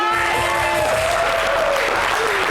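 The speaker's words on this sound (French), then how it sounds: "on a Didi Yéman que je vous demande d'applaudir." Audience applause from a crowd at a televised entertainment show, continuous dense clapping that stays loud throughout, mixed with a sustained voice rising over it.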